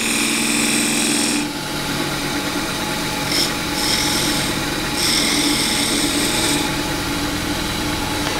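Wood lathe with a gouge turning beads on a bowl: a continuous motor hum under a rough scraping, shearing cut that swells in several passes of a second or two each, close and steady, without talk.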